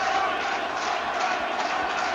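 South African crowd roaring through the 1995 Rugby World Cup final against New Zealand, a dense, steady wall of stadium noise with no breaks.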